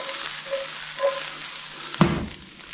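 Peppers frying in hot oil in a pan give a soft, steady sizzle with a few light stirring bumps and one sharper clatter near the end, close and moderately quiet, with no talk.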